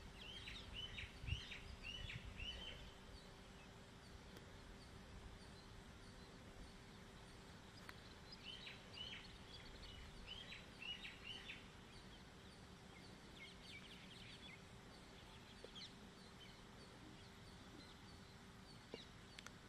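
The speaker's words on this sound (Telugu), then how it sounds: "Early morning nature, bird sounds అవన్నీ ఎంజాయ్ చేయండి." Early-morning birdsong rises from countryside near a railway line at Duggirala, with faint, scattered chirps and short call bursts over a low steady hum, distant and quiet throughout.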